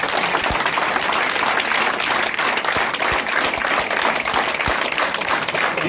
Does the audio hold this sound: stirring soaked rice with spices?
no